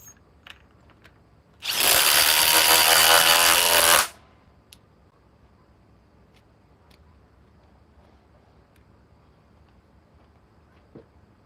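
A Milwaukee Gen 4 cordless tool with a 6 amp forged battery runs in one loud burst of about two seconds that starts and stops sharply, followed by quiet background with faint clicks.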